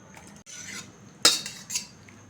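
Chilli chicken tipped from a pan into a hot pot brings a few metallic clanks and spoon scrapes, one sharp clang standing out, then a softer knock; close and without speech.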